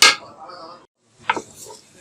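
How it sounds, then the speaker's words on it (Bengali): Raw rice dry-frying in a pot for bhuna khichuri gets stirred in two short bursts of metallic scraping and clinking, split by a brief quiet pause. "এই চালগুলো দিয়ে ভালোভাবে একটু ভেজে নিতে হবে"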